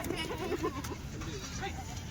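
Goats bought for rearing bleat in short wavering calls amid a steady crowd murmur at a livestock trade, with a voice talking in the background.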